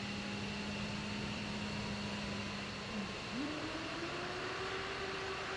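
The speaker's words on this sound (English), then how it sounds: "let's go ahead and start the left engine now" The left jet engine of an F-15E Strike Eagle starts in the DCS flight simulator, a faint, steady turbine whine over a broad hiss that steps up in pitch partway through and keeps rising.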